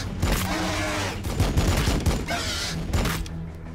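Rapid bursts of gunfire from the strategy game Warhammer 40k Battle Sector, loud and close, overlapping into a dense fusillade with booming impacts.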